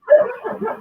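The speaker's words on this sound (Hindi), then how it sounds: "किसी और के आसपास से बाहर से कुत्ते की भौंकने की बहुत आवाज आ रही है" A dog barks from somewhere outside. A single short, yelping bark is fairly close and loud and is heard alone.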